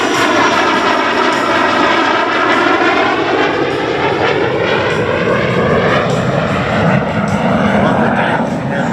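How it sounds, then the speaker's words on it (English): A warbird making a slow, gear-down pass at an air fair, a loud, steady engine drone that holds throughout, with a faint announcer voice underneath. "This is a gear down slow pass, showing you the slow speed characteristics of the aircraft."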